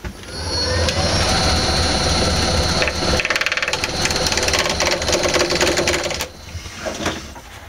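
A wood lathe turning a natural edge vase makes a steady mechanical drone with dense scraping and rattling as the tool cuts, continuous and close, easing off briefly near the end.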